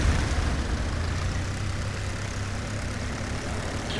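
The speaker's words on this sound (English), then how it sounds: "I hear a plane." Enemy warplane engine in the World War II game Forgotten Honor, on the Desert Winds map: a low, steady droning rumble that holds at an even level throughout, with no talk over it.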